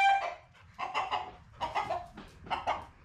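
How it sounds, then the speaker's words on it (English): A chicken clucks indoors inside a shipping container home, giving four short bursts of close, moderately loud clucking in an uneven rhythm. "Chasing a chicken out of the house."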